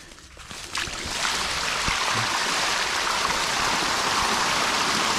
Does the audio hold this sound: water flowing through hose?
yes